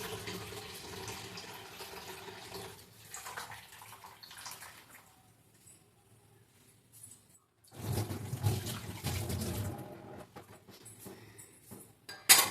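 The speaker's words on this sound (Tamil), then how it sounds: "புளி கரைச்சதையும் இவ்வளோ ஊற்றிக்கலாம்" Dissolved tamarind water poured into a pan while cooking fish curry, a soft splashing liquid pour that comes in two stretches, quieter at first and then louder and fuller after a short pause.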